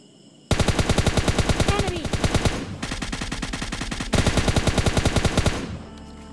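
An M4 rifle in PUBG Mobile Lite fires long sustained automatic sprays, loud and close, with a brief break between bursts and no talk.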